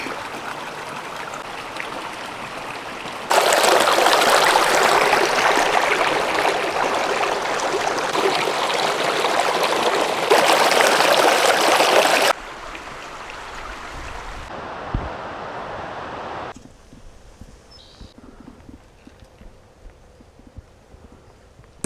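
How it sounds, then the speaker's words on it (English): Holcomb Creek on the Pacific Crest Trail rushes steadily, loud and close at first, then a quieter trickling stream with a few soft knocks. "This is Holcomb Creek."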